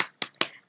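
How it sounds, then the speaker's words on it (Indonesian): Three sharp, separate claps in a university classroom doing the tepuk semangat rhythmic clapping icebreaker, close and crisp with short gaps between them and no talk. "Kita dari hitungan ketiga kita akan melakukan icebreaker tepuk semangat ya."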